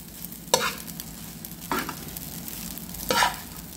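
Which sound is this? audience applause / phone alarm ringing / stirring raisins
stirring raisins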